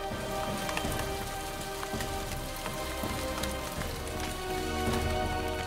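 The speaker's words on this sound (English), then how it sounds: "torrential rain" Torrential rain pours down in a dense, steady roar of drops hitting surfaces, loud and continuous throughout with no speech.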